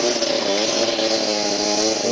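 Motorcycles strain up a steep mountain road, a loud, close, buzzing engine whine held at a steady high pitch throughout.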